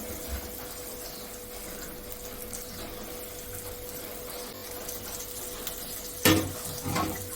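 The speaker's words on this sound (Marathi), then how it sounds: "तवा तापलेला आहे आता आपण यामध्ये हे मॅरिनेशन केलेले बांगडे आहेत तर ते घालून घेऊया" Marinated mackerel (bangda) lies on a hot tava and gives off a soft, steady sizzle with a low hum underneath, broken near the end by a couple of sharp utensil clatters.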